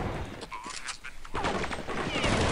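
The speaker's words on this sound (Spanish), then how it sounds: "balazos por todos lados" Dense Counter-Strike 1.6 gunfire from a tournament match, rapid overlapping shots crackling throughout with a louder burst in the second half, a commentator talking over it.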